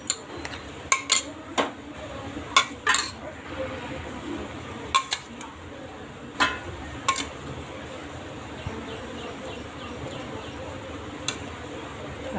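Sabudana vada mixture being combined by hand with potato and peanut powder in a kitchen, giving scattered light clinks and taps of utensils against a bowl over a quiet background, with no talking.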